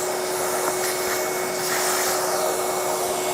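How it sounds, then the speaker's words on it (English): A vacuum cleaner runs steadily as its nozzle is drawn along a dirty filter, giving a loud, unbroken airy roar with a faint whine and no talk over it. "Run the vacuum down with the pencil."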